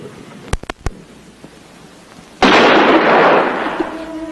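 A single loud gunshot bursts out after a few faint clicks and taps, then a long, harsh echoing roar fades slowly.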